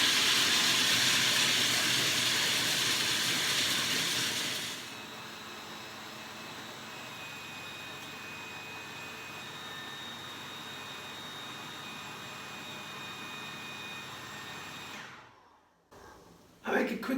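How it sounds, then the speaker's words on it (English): A food processor grinds raw peanuts into peanut butter with a loud, whining motor roar for the first few seconds, then cuts out. A faint steady hum and a brief clatter follow near the end. "When I put a lot of nuts or seeds into my processor, then what happens, they push it up"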